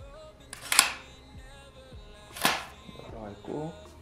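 A VFC SR25 gas blowback airsoft rifle fires two sharp, loud reports about two seconds apart, with quieter mechanical clicks and faint handling noise between them.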